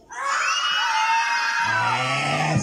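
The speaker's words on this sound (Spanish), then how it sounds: "el grito de los niños." A group of children lets out one loud, sustained shrill scream together, held for a couple of seconds at full strength before cutting off.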